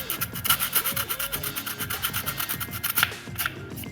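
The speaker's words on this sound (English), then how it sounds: "So I'm just taking some sandpaper" Sandpaper rubbing crusty dirt and debris off the rubber seal behind a hatch hinge on a WJ Jeep Grand Cherokee, a steady run of quick, close, rasping back-and-forth strokes with no talk.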